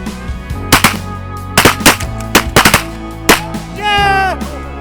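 Waterfowl hunters fire shotguns during a blizzard, giving a string of loud, sharp blasts in quick bursts close by. Voices shout between the shots.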